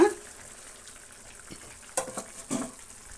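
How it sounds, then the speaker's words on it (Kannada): Potato pieces go into a hot pan for a potato curry and start frying, with a steady close sizzle and a few scraping stir and utensil clatters near the end. "ಈಗ ನಾವು ಆಲೂಗಡ್ಡೆ ನೋಡಿ ಪೀಸ್ ಮಾಡಿರೋದನ್ನು ಹಾಕೋಣ"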